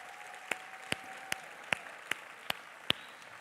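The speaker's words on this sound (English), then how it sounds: "do one big round of applause for the performers" An audience at a women in security awards event claps for performers, a sparse, evenly spaced run of single sharp claps over a quiet background.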